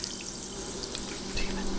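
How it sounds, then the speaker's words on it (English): Bottled water pouring into a glass on a kitchen countertop, a steady splashing stream that grows slightly louder near the end, close and alone. "You may have seen that water shot I just did."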